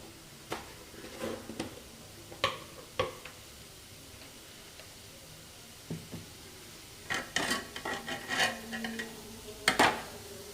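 Potato fry is stirred in a pan, giving scattered ticks and scraping taps of a spoon against the pan, loud at times and quiet at others, with quiet gaps between the clusters and no one talking.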